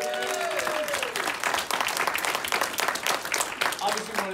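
A crowd at an AEW Double or Nothing Q&A claps steadily and loudly in dense, continuous applause, with a voice speaking over it near the start.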